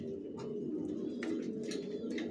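Racer pigeons coo in a steady, close run of soft murmuring calls, with a few brighter chirps rising above the cooing.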